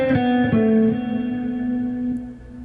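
Heavily overdriven electric guitar runs through another sixteenth-note practice figure, with several clearly picked notes early on that then hold and fade, with no voices over it.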